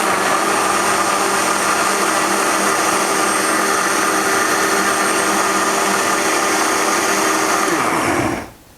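Flan ingredients whirring in a blender, a loud, steady high-speed motor roar for several seconds that winds down abruptly at the end.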